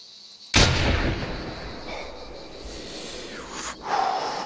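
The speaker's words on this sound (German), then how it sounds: "ich liebe dieses Nachladegeräusch" A hunting rifle fires one sharp, loud shot in The Hunter 2016 while hunting kangaroos, and the report decays slowly. Quieter mechanical reload clicks and a slide follow near the end.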